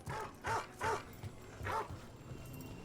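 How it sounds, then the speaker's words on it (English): Big dogs in Dragon Age: The Veilguard bark in a few spaced, moderately distant woofs, roughly four short barks over a quiet ambient background. "Like some big dogs here, man."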